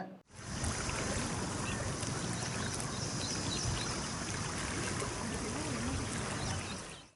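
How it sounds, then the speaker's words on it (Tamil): River water carrying froth rushes past in a continuous, loud, even wash of flowing and splashing, with no voices over it. "ஒரு ஆற்றுல தண்ணி போகிறதே இல்லை ஏதோ நொற நொறையாக வந்து போய்கிட்டு இருக்கு"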